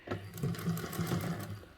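A sewing machine runs steadily for a short burst while top stitching along a zipper tab, its motor whirring with a rapid stitching pulse, close and alone without talk.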